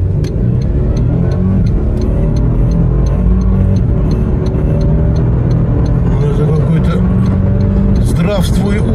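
A Toyota Land Cruiser 300 accelerates hard, its engine note rising steadily and loudly from inside the cabin, with excited voices talking over the roar throughout.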